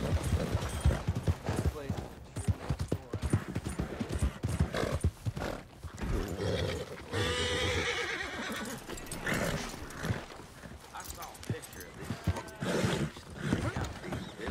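A horse in the Red Dead Redemption 2 video game gallops with rapid hoofbeats and loud neighs and whinnies, while a person talks over the game sounds.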